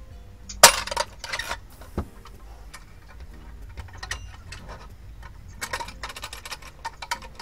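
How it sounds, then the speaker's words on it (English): A screwdriver levers metal tabs on the chrome front grille of a vintage truck, giving sharp metallic clicks and clinks, one loud snap early on and scattered lighter taps afterward, close and alone. "just need unbending with a screwdriver"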